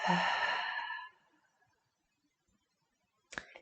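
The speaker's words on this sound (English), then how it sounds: "Just breathing nice and deeply in through the nose" A deep, slow exhale through the mouth during a calming hatha yoga session for anxiety, close and soft, trailing off into silence before a brief faint breath at the end.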